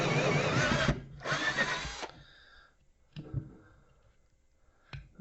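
A 14.4 volt Black & Decker cordless drill with a nearly dead battery drives a hole saw, heard in two close, strained whirring bursts of about a second each, followed by a few faint knocks and clicks.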